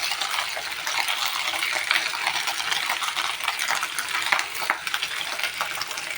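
Kebabs fry in hot oil that spatters and sizzles steadily, a dense close crackle with scattered sharper pops running throughout, no talking.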